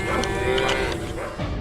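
A cow moos loudly and steadily inside a barn, picked up by a security camera, one drawn-out low call filling the moment with no talk over it.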